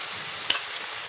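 Poha upma with turmeric and salt cooking in a pan, a soft steady sizzle close by with a couple of brief stirring scrapes.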